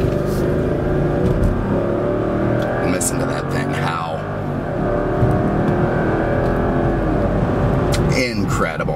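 Mercedes-Benz SL engine howling as the car drives at speed, a steady loud engine drone with rising revs running the whole time under a voice talking.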